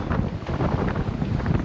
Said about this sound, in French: il y a 14 nœuds de vent, donc on profite un peu du vent